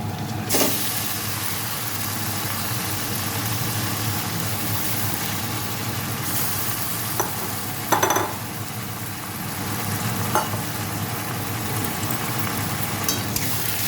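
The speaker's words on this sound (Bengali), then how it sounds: "পেঁয়াজটা আমার ভাজা হয়ে গেছে, এখন আমি মেখে রাখা মাংসটা দিয়ে দেব" Marinated chicken goes into a pan of fried onions and is stirred, giving a steady, close sizzling hiss with a few brief clinks of a utensil against the pan.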